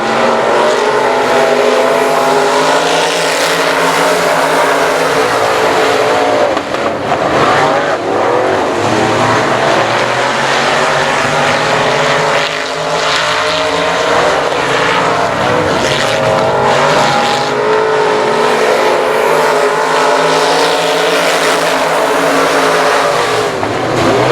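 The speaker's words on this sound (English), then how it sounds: "As Talon Minton really racing around that number 9 car" Race cars, including the number 9 car, roaring around an oval speedway, loud continuous engine howl rising and falling as cars pass and shift, with no voices over the din.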